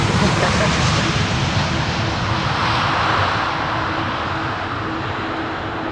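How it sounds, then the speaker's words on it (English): Airliner landing at Amsterdam Schiphol with only the outer thrust reversers deployed at idle, a steady broadband jet roar with a faint tonal whine filling the whole stretch at fairly close range, gradually easing off toward the end. "Fire up the reversers, yes please, come on."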